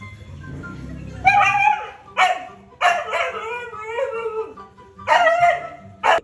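A dog named Kobe barking at home, a series of loud, close yips and barks in uneven bursts with short pauses between them.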